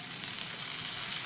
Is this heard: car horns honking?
no